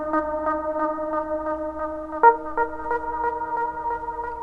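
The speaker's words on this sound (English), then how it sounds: "now I'm going to patch R1, the delay, to the reverb." Sustained synth tones ring through a delay patched into a reverb in Quantiloop and apeMatrix, with repeating plucked echoes pulsing at a steady rhythm and a sharper attack midway, alone and fairly loud.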